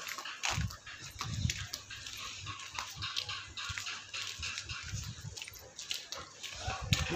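Dogs in Manali, India, giving repeated barks and whimpers at varying distances, irregular and moderately loud over background noise.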